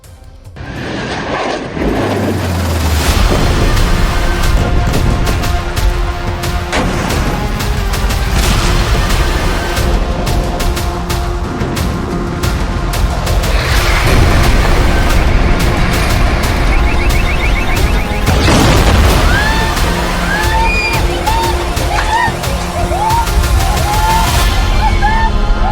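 Heavy explosions and blasts in Lebanon: a loud, continuous roar of rumbling booms and aircraft-like noise throughout, with no speech over it.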